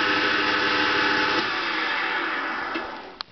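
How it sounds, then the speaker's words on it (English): An old wooden lathe runs with a loud, steady whirring hum that slowly tapers off, ending in a single sharp knock. "This is what I made on a wooden lathe here, my granddad's old wooden lathe."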